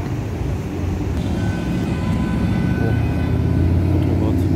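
Heavy car traffic on a Dubai road, a steady dense rumble of passing vehicles that grows slightly louder over the clip, with a faint tonal whine running through the noise.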